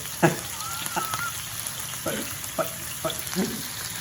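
Chicken browning in a pan for baked honey mustard chicken, fat spitting and crackling in sharp irregular pops over a steady sizzle, close by.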